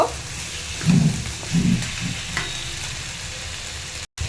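Cut elephant foot yam frying with spices in a pan and being stirred, giving a steady sizzle broken by a few scraping strokes, with a brief dropout near the end.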